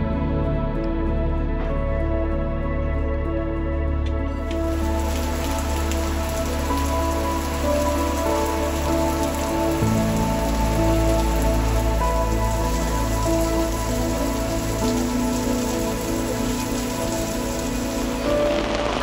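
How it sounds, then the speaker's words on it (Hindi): Heavy rain pours down steadily and loudly in Rwanda, a dense, continuous hiss of drops striking surfaces that holds for the full length, close by and with no talk over it. "बहुत ही ज़ोरों शोर से बारिश स्टार्ट हो गई है"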